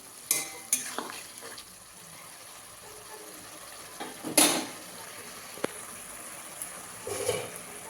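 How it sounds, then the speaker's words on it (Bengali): Chopped coriander goes into a simmering khoira fish curry, followed by a soft frying sizzle and occasional scrapes and knocks of a spoon against the pan as it is stirred, close and without speech. "একটু নাড়া দিয়ে নেব।"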